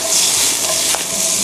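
Shrimp stir-fry in a hot pan, a loud continuous close sizzle with the scrape of stirring, no voices.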